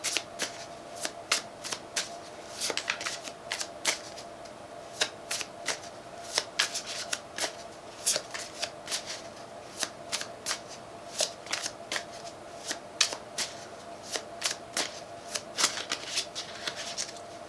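Tarot cards being shuffled by hand, a steady run of crisp riffling clicks and flicks repeating close to the microphone for the whole stretch, with no talk over it.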